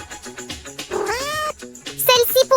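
A cat meows loudly in a long, rising and falling call, followed by a shorter higher meow, over a light musical background.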